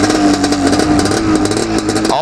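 A snowmobile engine, burnt in an earlier fire and now reassembled with only a couple of springs holding the exhaust, runs continuously with a steady mid-pitched drone and slight revving, loud and close, with some voices partly over it.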